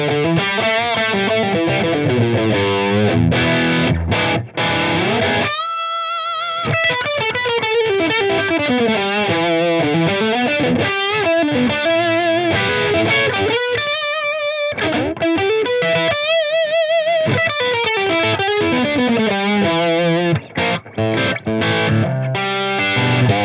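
Electric guitar played through an IK Multimedia TONEX tone model, a distorted amp tone with modulation effects, loud and continuous with sustained notes, bends and short chord stabs, no talking.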